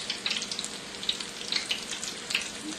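Shrimp patties frying in a pan give off a steady close sizzle with scattered crackling pops throughout, no voices over it.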